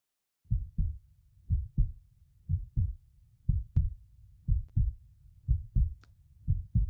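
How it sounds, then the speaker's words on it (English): Heartbeat sound effect heard over a storm at a tabletop roleplaying session: steady, loud lub-dub double thumps repeating about once per second, alone with no talk. "the heartbeat"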